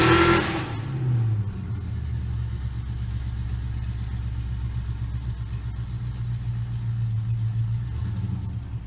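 A 2010 Chevy Camaro at a drag race launches with a loud burst, then its engine holds a deep, steady rumbling roar that carries on without a break.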